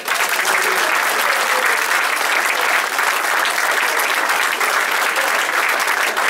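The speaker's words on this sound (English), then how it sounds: "I'd like you all to have a big round of applause and thank them very" A room full of guests applauds at a social club awards evening. The clapping is dense and sustained at a steady, loud level throughout and is not mixed with talk.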